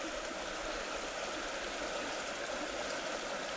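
A river rushes steadily and evenly beside a gold panning spot, a constant broadband flow with no breaks and no voices.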